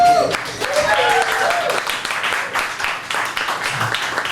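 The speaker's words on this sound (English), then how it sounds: "Please make a round of applause for all your comics you've seen tonight." A comedy-show audience applauds the comedians of the night with sustained, moderately loud clapping in a bar venue while someone speaks over it on a microphone.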